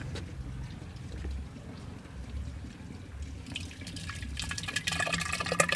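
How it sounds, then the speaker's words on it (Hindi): Thick compost solution poured into a clay pot for making matka fertilizer, giving a wet, gurgling, dripping stream that swells louder and more splashy toward the end, with no talking. "अब इसको हम क्या करते हैं कि इस घड़ा में डालते हैं।"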